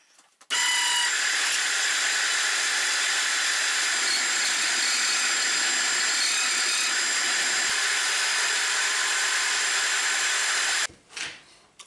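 A metal lathe cuts a lead screw for a shaper with a freshly changed cutting tool, giving a loud, steady, high-pitched whine that runs unbroken for about ten seconds before stopping.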